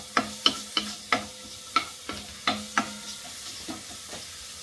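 Thinly sliced ginger fries in a pan, a quiet sizzle broken by about a dozen crisp, irregular scraping taps of a utensil stirring it, close and without talk.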